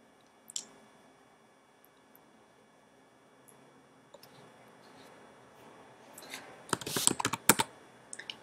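Fast bursts of typing on a computer keyboard, a single click early, then quiet, then a close flurry of rapid keystrokes near the end, with no speech.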